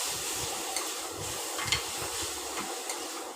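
Crushed ginger and green chili sauté in a pan for an egg curry, a soft steady sizzle with faint stirring scrapes and light clicks of a spoon.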